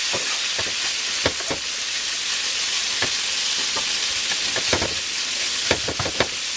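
Liver fries in a pan with butter, olive oil and spices, a loud continuous sizzle with repeated sharp crackles and pops as the pan is shaken and the contents stirred.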